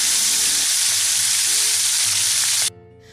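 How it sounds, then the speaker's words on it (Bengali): Chicken pieces sizzle loudly in hot mustard oil, a dense steady crackle that runs unbroken before dropping off sharply near the end. "এখন প্রথমেই এই চিকেনের টুকরোগুলোকে তেলের মধ্যে দিয়ে দিলাম"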